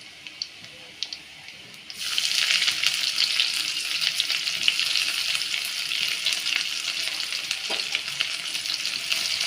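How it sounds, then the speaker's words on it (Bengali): Chopped onions tossed into hot oil with fried garlic hiss into a loud, steady sizzle that starts abruptly after about two seconds of quiet and continues close up, with occasional stirring clicks. "পেঁয়াজগুলো আমি লাল লাল করে ভেজে নেব।"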